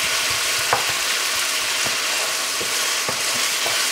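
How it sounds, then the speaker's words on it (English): Chile meat topping sizzles and fries in a pan as it is mashed down, with a steady loud hiss and scattered scraping taps from the utensil, and no talk. "we're gonna just keep mushing this down and cooking it down"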